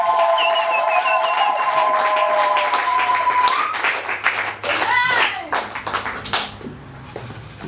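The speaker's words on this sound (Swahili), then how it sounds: "Hebu mshangilie Bwana Yesu kwa makofi yako." A church congregation claps their hands together, a dense burst of applause that thins into scattered claps, with singing and voices over it.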